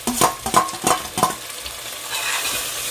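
Chopped tomato being stirred into sautéed onions in a pan for a mutton curry, four quick scraping strokes followed by a gentle continuous sizzle, close and clear with no speech.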